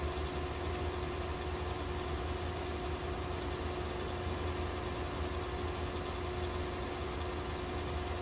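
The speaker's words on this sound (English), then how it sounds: "Dodging trees in your tractor." A tractor engine drones steadily in a farming simulation game, a constant loud hum with a steady tonal whine and no talk over it.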